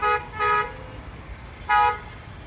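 Delhi street traffic during rain, with two short car horn toots, one early and one near the end, over a low rumble of road noise; no talk.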